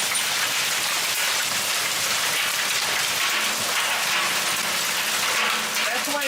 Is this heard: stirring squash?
no